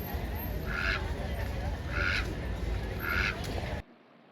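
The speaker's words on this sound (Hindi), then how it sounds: "सारे बत्तख हैं यहाँ पे ना।" Ducks on the water at a night-time boating spot, three loud quacks spaced about a second apart over a steady background hum of the crowd and surroundings.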